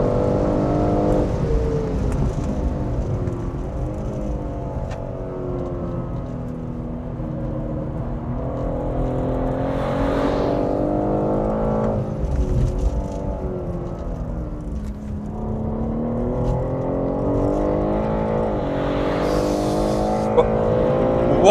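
A BMW G80 M3 laps the Goodwood circuit on Michelin Track Connect tyres, its engine droning steadily from inside the car, with rising and falling revs through gear changes and corners, loud and continuous.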